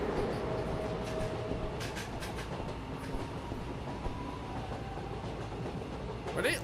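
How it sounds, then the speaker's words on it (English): Train noises in the video game Anant Express: a continuous rumbling rail roll with faint clickety-clack, steady and fairly quiet throughout. "Sad train noises."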